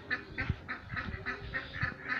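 Muscovy ducks in a small farmyard flock give a steady series of about eight short, nasal honking calls, evenly spaced and moderately close, with no voices over them.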